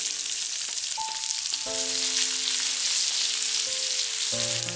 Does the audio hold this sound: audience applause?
no